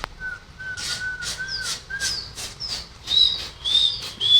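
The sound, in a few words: person whistling to pigeons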